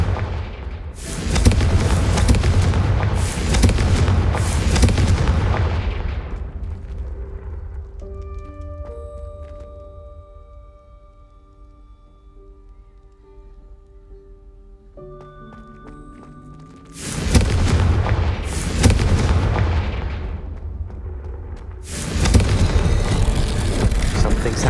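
Confringo explosion spells cast repeatedly in a Hogwarts Legacy combat arena fight: loud, dense booming blasts in rapid bursts, a quieter stretch of ringing tonal game sounds in between, then more heavy explosive bursts.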